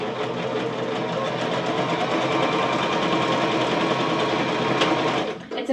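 A sewing machine runs a zigzag stitch across fabric in one continuous, close and steady mechanical whir that stops abruptly near the end.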